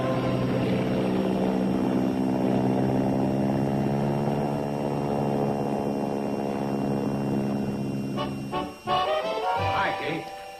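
Crop duster airplane engine droning loud and steady with a strong harmonic hum, then sputtering and shifting pitch near the end as it changes speed.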